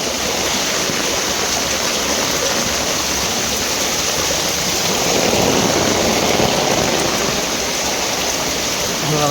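Heavy rain and floodwater reaching the steps of a village temple make a dense, constant rushing roar, loud and close throughout, swelling slightly midway, with no clear talk over it.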